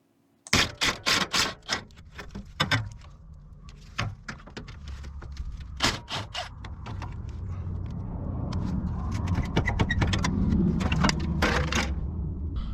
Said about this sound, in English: Using a 12mm socket, I remove the 4 bolts holding the skid plate up.